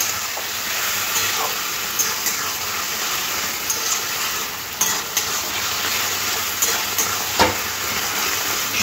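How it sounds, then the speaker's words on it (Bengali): Spice masala stir-fried with a little water for a Bengali cabbage curry, a steady close sizzle and bubbling in the pan with occasional scraping clicks of the spatula, continuous throughout. "জল দিয়ে 2 থেকে 3 মিনিট খুব সুন্দর করে কষে নিতে হবে।"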